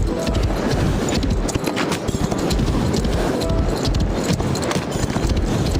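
Rapid video game horse hoofbeats pound in a quick, continuous galloping rhythm during a race, loud and close, with faint voices occasionally underneath.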